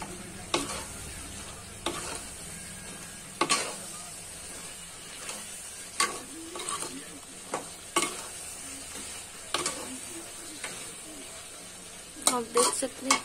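Brinjal being stirred in a frying pan, with a steady sizzle underneath and repeated sharp scraping strokes of the spoon at irregular intervals, close and fairly quiet.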